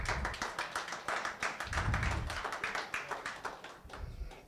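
An audience applauds a university professor speaking on tyranny, with a brief burst of scattered, fairly quiet claps and taps rising and fading in a few seconds.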